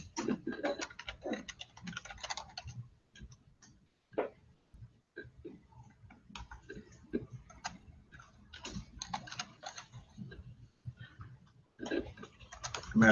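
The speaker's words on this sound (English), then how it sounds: "I'm having terrible typing." Keys clatter on a computer keyboard in quick, uneven bursts of close taps, with short pauses between runs of typing and no voices.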